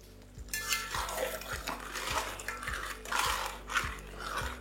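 A spoon stirs mutton curry with tomato in a pot, scraping and knocking against the metal in a loose, repeated rhythm under a soft simmering hiss, close and fairly quiet.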